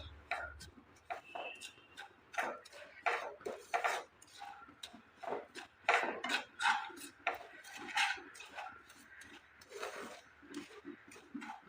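A spoon scraping and clinking against a metal bowl while stirring a dry rice flour sweet mixture with powdered milk and cardamom, a steady run of close, irregular taps and rasps with no voices.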